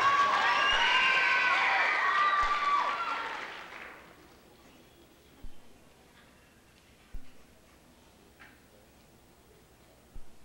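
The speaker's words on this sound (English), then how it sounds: "Give her a big round of applause, Sasha Rinos." Audience clapping and cheering for a young girl's dance performance, loud and dense at first, then fading out after about four seconds into near silence with a few isolated knocks.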